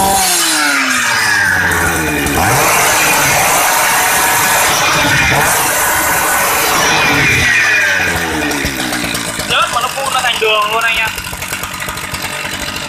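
A Swedish-made chainsaw engine with a worn muffler runs, its rough two-stroke note rising and falling through revs and idle, loud and close, with someone talking over it.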